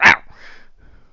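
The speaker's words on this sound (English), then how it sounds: "I'm sorry for the barking" A single sharp dog bark up close, followed by a faint trailing whine and quiet room tone, no talk over it.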